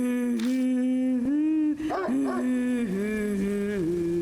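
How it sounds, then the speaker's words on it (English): A dog growls in the horror video game Spirit Hunter NG, a loud, close, sustained tonal snarl that rises and wavers through a few drawn-out swells. "That dog's growling"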